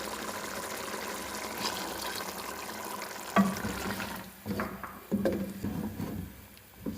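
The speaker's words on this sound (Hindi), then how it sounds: "इसमें मैं आधा कप पानी और ऐड कर रही हूँ।" Half a cup of water is poured into a pot of Lahori-style chickpea curry, a short splashing pour followed by soft liquid sloshes and stirring sounds up close.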